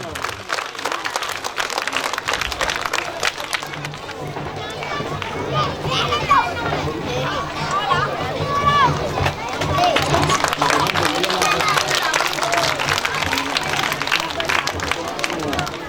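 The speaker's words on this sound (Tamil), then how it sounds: "எங்கே கரகோஷம் செலுத்தி உற்சாகப்படுத்துங்கள்" A crowd at a prize-giving ceremony applauds for a long stretch, dense clapping swelling louder toward the end, with children's voices and chatter mixed in underneath.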